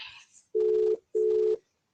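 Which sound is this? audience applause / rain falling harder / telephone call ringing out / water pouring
telephone call ringing out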